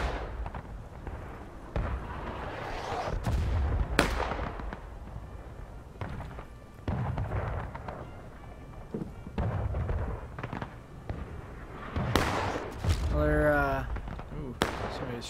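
Musket gunfire in the Civil War video game War of Rights: sharp cracks and booms at irregular intervals, some near and loud, others more distant, with a voice speaking between shots.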